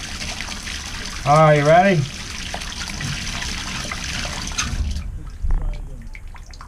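Water runs into a clogged bathtub plugged with a plunger as a stopper, a steady close trickle and splash under brief talk.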